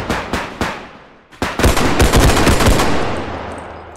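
Repeated video game gunfire, three sharp separate shots, then a dense, loud rapid-fire burst that rings out and decays into a lingering echo.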